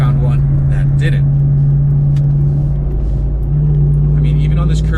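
A 2021 Ram TRX pickup rolls along a curvy road, a loud steady engine drone and low rumble heard from inside the cabin, with someone talking over it.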